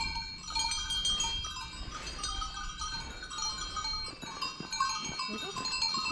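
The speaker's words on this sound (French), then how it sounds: "il faut aller tranquillement parce qu'il y a de la chèvre" Goats wearing cowbells on an alpine trail in the Portes du Soleil, with many bells clanking and jangling irregularly nearby and occasional bleats mixed in.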